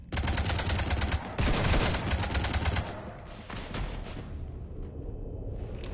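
Rapid automatic gunfire in Mass Effect 3 rattles in dense, loud bursts, with a heavy volley near the start that thins into scattered shots and a lingering rumble.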